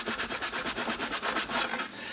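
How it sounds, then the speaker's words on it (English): A wet rag with a little glass cleaner rubs back and forth across a NuTone surface-mounted patio station base, about a dozen rhythmic close scrubbing strokes that end in one longer smear. "if we take a rag that's a little bit wet, it's got a little Windex on it"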